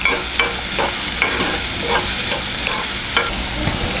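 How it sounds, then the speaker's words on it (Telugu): Onions frying toward golden in a pan for a potato and fenugreek-leaf curry, a loud dense sizzle with repeated spatula scrapes every half second or so, close up and without talk. "ఉల్లిపాయలు దోరగా వేగనివ్వాలి."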